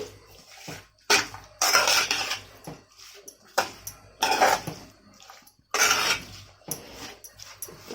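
Wet, squelchy mixing of prawns with ginger-garlic paste marinade in a bowl, coming in repeated bursts with short pauses between strokes, close and fairly loud.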